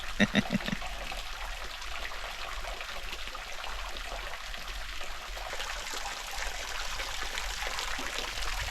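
Steady broadband rush of flowing water as Carmelita Waterfall and its stream pour continuously into a natural pool in central Trinidad, with a few brief knocks at the start.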